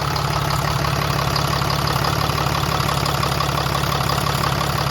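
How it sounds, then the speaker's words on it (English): A 2016 Dodge RAM 2500 with the 6.7L Cummins diesel idles close by, a steady low rumble with a fine rapid clatter and no change in pitch throughout. "now we got the vehicle started, and we're gonna check for leaks"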